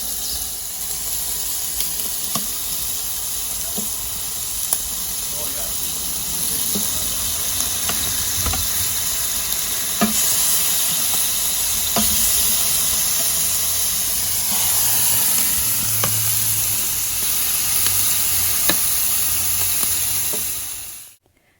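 Oiled chicken pieces sizzling on a barbecue grill, a loud steady broadband hiss and crackle that holds throughout with faint pops, then cuts off abruptly at the end; no talking.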